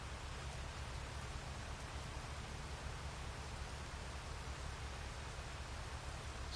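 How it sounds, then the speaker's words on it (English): Steady rain falls in the farming video game Farming Simulator 25, a continuous soft hiss of drops on surfaces with a low rumbling undertone, even and unbroken throughout with no talk. "I can't believe it's still raining."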